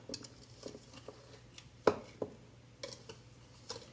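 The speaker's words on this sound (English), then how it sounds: "You want to mix it really well so that one part of the crumble on the blackberry cobbler doesn't have like a really floury taste" A pastry cutter scrapes and knocks against a bowl while crumble topping for a blackberry cobbler is mixed. Irregular taps and clinks build to one sharper knock near the middle, close and moderately loud, with no speech.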